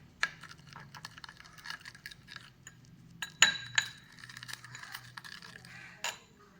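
Katha-powder hair dye is stirred in a bowl, giving light clinks and scrapes of a utensil against the bowl that come in short bursts at close range, with no talking.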